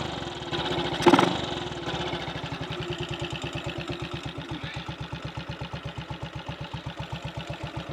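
A 1958 Triumph Tiger Cub motorcycle engine idles steadily close by with an even, rapid putter. A brief louder burst comes early, then the running settles back to its regular idle.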